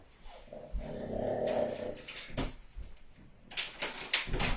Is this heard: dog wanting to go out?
yes